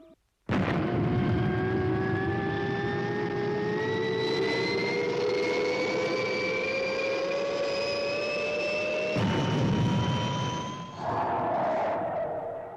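Fireball XL5 rocket lifts off with a loud, sustained roar and a rising whine that climbs steadily in pitch, cutting sharply partway through into a harsher rush before trailing into a lower surge, with no voices.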